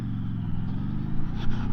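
A QJ Motor motorcycle engine pulls steadily through a gear change, its rough, racy drone rising slightly partway through, close and continuous with no talking.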